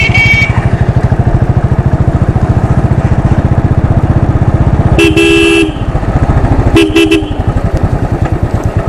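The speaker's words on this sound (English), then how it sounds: "Now comes the real challenge for any bike, a crowded Indian marketplace." A 2016 Royal Enfield Classic 500 Desert Storm motorcycle thumps along at a steady, loud, rhythmic single-cylinder beat through a crowded Indian marketplace, with two bursts of nearby vehicle horn honking.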